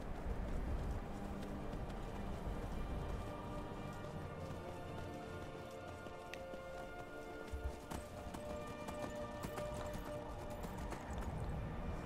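Horse hooves clip-clop steadily in Skyrim Special Edition, a continuous quick rhythm of hoofbeats at moderate distance under layered game ambience and music, with no talk.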